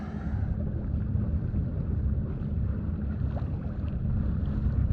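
A sailboat's engine drones steadily while the boat motors out of a French port, a continuous low rumble mixed with wind noise and no talking.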